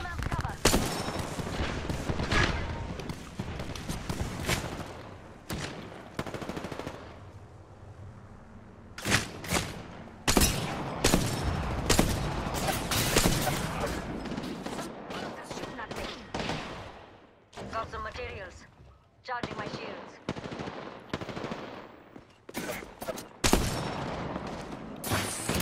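Rapid gunfire bursts and single sniper cracks from an Apex Legends match, loud and close, crowding together in volleys, with player voices talking over the shooting.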